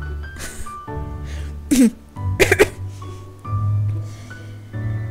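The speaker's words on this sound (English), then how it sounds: "try to clear your throat sexily" Someone clears their throat in a couple of sharp, raspy bursts close by, with a low, droning background between them.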